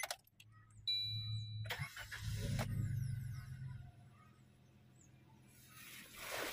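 Suzuki Ertiga GL 2022 with manual transmission starting: a brief starter crank catches and the engine fires up loudly, then settles into a steady, nearby idle.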